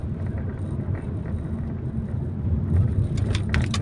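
Road traffic at a stoplight on Katipunan during moderate flow, a continuous low rumble of idling and slowly moving vehicles close by, swelling slightly toward the end with faint higher clatter.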